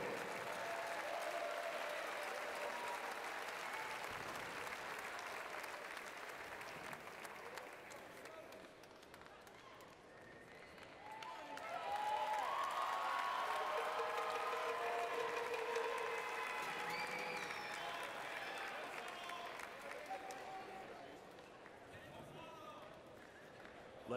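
Crowd applause fills a basketball post-game ceremony, steady clapping and cheering throughout, swelling louder midway with scattered shouts over the arena din.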